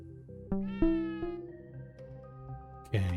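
Several short cat meows from a video game ring out one after another, clear and close, with a sharper burst near the end.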